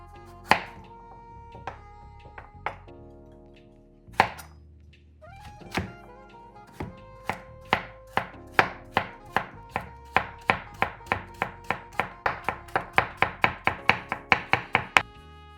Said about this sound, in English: starting with the carrot. I like to cut this into small, thin pieces